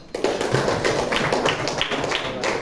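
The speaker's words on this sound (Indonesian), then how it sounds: "Oke, kasih aplaus dulu." Schoolchildren in a classroom clap together in a burst of applause, a dense patter of many hands that starts abruptly and carries on loud and close for a few seconds.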